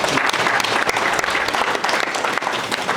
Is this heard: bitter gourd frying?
no